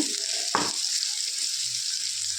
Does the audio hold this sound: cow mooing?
no